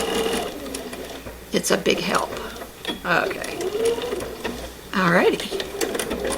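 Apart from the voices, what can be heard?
sewing machine sewing the last seam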